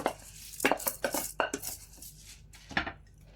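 A utensil scrapes and clinks against a frying pan in several separate strokes while rice and carrots cook in melted butter, close and fairly quiet, with no clear sizzle.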